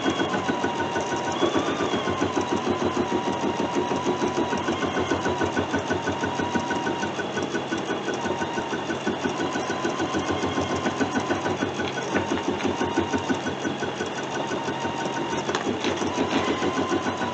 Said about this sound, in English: I'm going to go ahead and let it start stitching, and it's going to stitch out this entire design